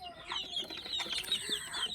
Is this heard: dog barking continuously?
no